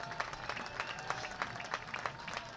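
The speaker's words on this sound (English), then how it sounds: "The applause continues" A football crowd at Charleston Battery vs. Harrisburg City Islanders claps continuously, heard from a distance as a fairly faint wash of hand claps with small irregular peaks.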